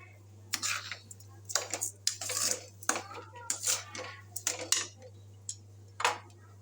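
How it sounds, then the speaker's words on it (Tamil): A spoon stirs kesari in a pan as the sugar melts, giving quiet, irregular scraping and clinking strokes over a low steady hum. "சர்க்கரை போட்டதும் கொஞ்சம் கட்டி கட்டியாக வர மாதிரி இருக்கும் நீங்கள் நல்லா பார்த்து கிண்டிங்க மெல்ட் ஆகிடும்"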